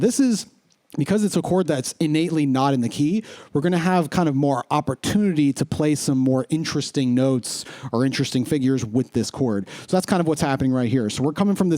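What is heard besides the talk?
No distinct noise like a dog, phone or traffic.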